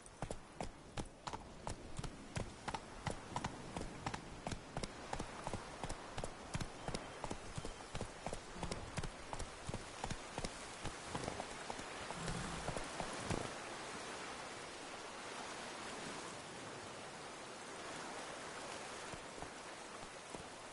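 Hooves of the horse Roach clip-clopping in a video game, a brisk regular beat of close, crisp hoof strikes that runs for over half the clip before fading into a soft, even rain-like wash.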